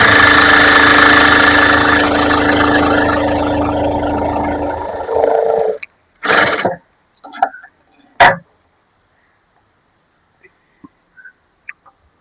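A sewing machine stitches lace onto a puff sleeve with a loud, rapid, steady whir for about five seconds. It stops, then follows with a few short bursts and faint clicks and taps.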